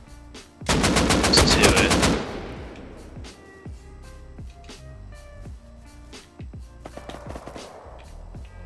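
Rapid automatic AK rifle fire in the console version of Rust, a loud sustained burst of shots lasting over a second, then scattered distant pops and clatter while someone briefly speaks.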